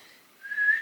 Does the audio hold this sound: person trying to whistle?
yes